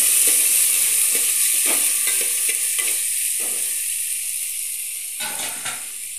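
Chopped pani puri ingredients hit hot oil in a pan, setting off a loud, steady sizzle with scraping stir strokes at intervals and bursts of spitting near the end, close up with no talk.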